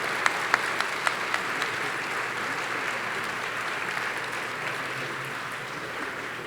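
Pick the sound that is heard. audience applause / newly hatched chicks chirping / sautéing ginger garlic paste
audience applause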